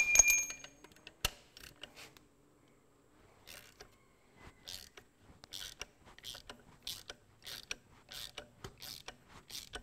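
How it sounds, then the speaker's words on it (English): Snap-on bent head ratchet loosening cylinder head bolts on a Ferguson TEA20 tractor: a sharp crack as a bolt breaks free, then bursts of quick ratcheting clicks, close and fairly quiet, with pauses between strokes. "This ratchet I'm using is a snap-on bent head ratchet, and they are the handiest thing."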